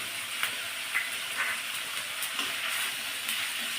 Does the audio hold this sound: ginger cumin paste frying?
yes